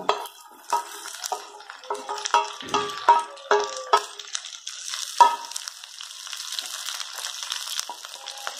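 Onion and okra fry in a pan, with a run of spatula scrapes and clinks over a bright, steady sizzle. The stirring fades after a few seconds and leaves the sizzle alone, close and loud.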